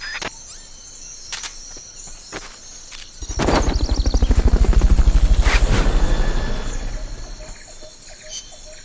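Helicopter in the video game Metal Gear Solid: Peace Walker, rotor thumping rising from about three seconds into a loud, steady pulsing chop that fades near the end, with game effects and ambience around it.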